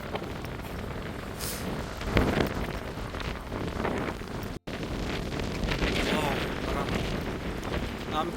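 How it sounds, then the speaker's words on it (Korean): Strong coastal wind buffets the microphone on a seaside walking trail, a loud continuous roaring rumble with gusting surges and a brief dropout partway through. "아 바람 오늘 엄청납니다."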